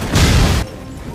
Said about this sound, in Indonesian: mobil yang terparkir di area penjara tiba-tiba saja meledak